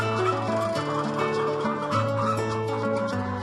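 Flock of free-range chickens confined in farm sheds on an organic farm, a dense continuous chorus of clucking and calling, loud and close, with no talking.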